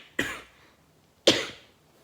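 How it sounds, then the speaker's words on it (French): Two separate coughs about a second apart, close and fairly loud, from a woman with a cold and a heavy cough; no talking. "J'ai un rhume et une toux énorme."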